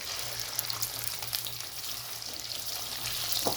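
Chicken pieces, about a kilo, frying in a pan for a Pakistani malai chicken until golden, giving a steady close sizzle that runs without a break and holds the same level throughout.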